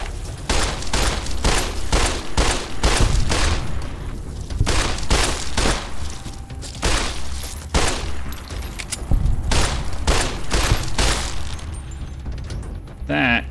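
Gunfire in the video game Fallout: New Vegas, a rapid series of sharp shots in uneven bursts that keeps going almost without a break, loud and close, with a voice talking between the shots.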